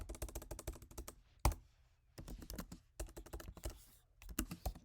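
Someone types a terminal command on a MacBook keyboard, with fast clusters of soft key clicks, one sharper tap, and short pauses between bursts, all close and fairly quiet.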